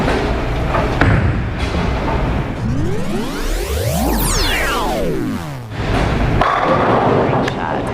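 A bowling ball rolls down a lane and crashes into the pins with a loud clattering scatter, heard alone over steady alley background noise.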